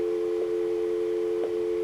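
A steady telephone dial tone from a desk phone before a call is placed, holding at an even level for about two seconds with no talking over it.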